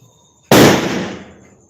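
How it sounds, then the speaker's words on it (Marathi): A single loud firecracker bang erupts after a brief quiet, its boom trailing off over about a second. "बाहेर फटाका वाजवायचे कार्यक्रम जोरात चालू आहे"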